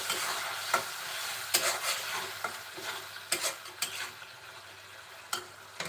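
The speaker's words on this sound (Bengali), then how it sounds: "কিছুক্ষণ পর ঢাকা উঁচু করে আবার একটু নেড়ে দিব" Prawn curry being stirred in a pan, a low sizzle broken by repeated clinks and scrapes of a spoon against the pan in an uneven rhythm, close and fairly loud.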